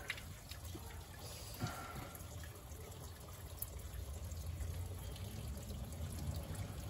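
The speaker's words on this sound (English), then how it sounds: "Let the tank fill up real quick." A toilet tank refills with water, giving a steady hiss and trickle that grows slightly louder and fuller over several seconds. It plays alone with no speech.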